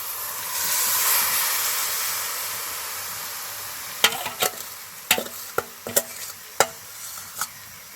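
Sugar-coated raw mango sizzles and hisses steadily in a hot wok while making pickle, then a series of sharp scraping stirs clatter against the metal in the second half.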